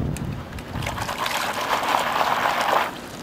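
Material dumped into a classifying screen held in water while prospecting for gold, giving a steady watery trickle and splash that swells slightly midway and runs for about three seconds without talk.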